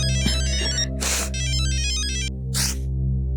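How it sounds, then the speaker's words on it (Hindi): A bright electronic ringtone plays continuously, a looping melodic tone with sustained notes, clear and fairly loud with no voices. "वरुण का फोन है नानी, कल करना।"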